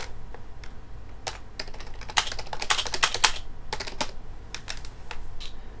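Fingers tap on a computer keyboard in quick, uneven bursts of sharp clicks with short pauses between them, close and clear with no talking.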